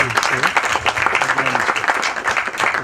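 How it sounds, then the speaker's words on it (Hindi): Audience at a film trailer launch claps steadily for an actress, a dense, continuous round of applause with crowd noise and some voices mixed in throughout. "क्लॉडिया के लिए ज़ोरदार तालियां प्लीज"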